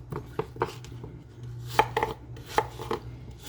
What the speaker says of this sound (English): cut your apples in half. This is how I do it. I just cut them around like this